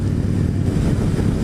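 A motorcycle carrying two riders rolls along in a Santa charity run, its steady engine drone loud and close under heavy wind rush, with no talk.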